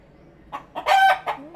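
Backyard laying hen flock, with a rooster crowing close by in a loud, drawn-out cock-a-doodle-doo that rises in a few harsh bursts, standing alone without talk.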